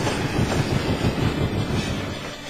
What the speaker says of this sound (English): But Henry didn't realize that he already puffed out of sight without his driver.